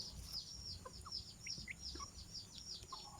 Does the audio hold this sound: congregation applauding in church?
no